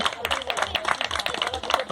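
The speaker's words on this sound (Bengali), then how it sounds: "হাততালি হাততালি হাততালি।" A crowd at a Christmas celebration in Bankra Dober, West Bengal, India, claps in quick scattered bursts close to the microphone while voices talk over it.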